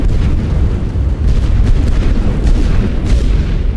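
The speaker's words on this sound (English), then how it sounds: "More artillery going down." Continuous rumbling artillery barrage from a Western Front World War I strategy game: dense, loud booms overlapping one another into a sustained roar with no gaps.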